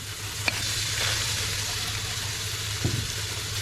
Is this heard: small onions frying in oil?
yes